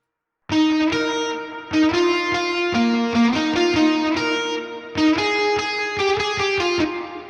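Loud distorted lead guitar playing a sustained melody, each note trailed by rhythmic echoing repeats and a wash of reverb.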